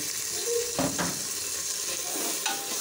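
Chopped onion dropped into hot oil while cooking a spicy, sour and sweet beef curry, giving a steady close sizzle with stirring scrapes and a few clinks of a utensil against the pan, and no talk.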